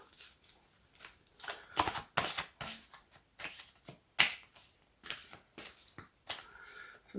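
A deck of cards is cut and handled, giving a handful of sharp riffling snaps and soft shuffling rustles, close and fairly quiet, spread irregularly through the stretch.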